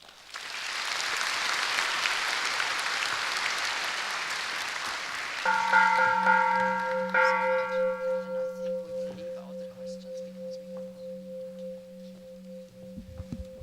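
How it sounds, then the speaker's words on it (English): A wash of broad noise gives way to a struck temple bell whose clear, sustained tones ring out and slowly fade, pulsing as they decay. "if you can appreciate the ringing of these bells"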